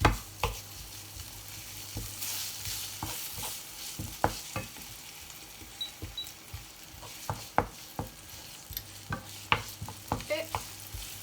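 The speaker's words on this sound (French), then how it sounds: "Et on continue à mélanger délicatement." Ground meat stirs in a hot pan with soft, continuous sizzling. Scattered scraping and tapping clicks of the utensil come close by, with no voices.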